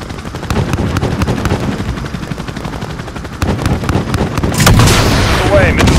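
Rapid, dense gunship cannon fire pounds continuously in the military video game Proxy War, heavy repeated bursts with booming impacts and a louder blast near the end, radio chatter mixed underneath.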